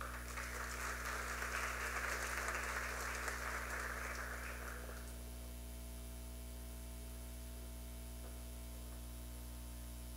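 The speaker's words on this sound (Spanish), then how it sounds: "A todos los recibimos con un fuerte aplauso." Audience applause welcomes speakers at an international seminar on public legal management. It sounds faint and distant, a steady wash of clapping that fades out after about five seconds, leaving low electrical hum.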